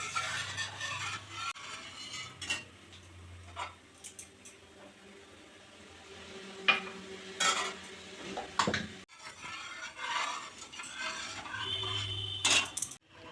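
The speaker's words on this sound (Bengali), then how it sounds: "এবার উনুনটা জ্বেলে দেব, দিয়ে ভালো করে নাড়তে থাকবো।" A spoon stirs a milk and cornflour mixture in a pan on the stove, producing quiet, intermittent clinks and scrapes against the metal with soft sloshing between them.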